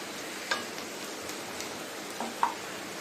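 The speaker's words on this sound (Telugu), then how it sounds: "వేగుతున్నాయి వేగుతున్నాయి వేగుతున్నాయి" Boiled, salted potatoes fry in a pan, giving a steady, fairly quiet sizzle with a few sharper crackles and pops scattered through, without any talking.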